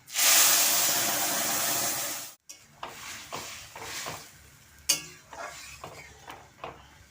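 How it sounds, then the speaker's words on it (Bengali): Cucumber, potato and chana dal fritters hitting hot fried spices in a pan, a loud broad sizzle burst for about two seconds that then drops away into scattered stirring scrapes and clinks. "মশলাটা ভাজা হয়ে গেছে এখন আমি তরকারিটা দিয়ে দেব"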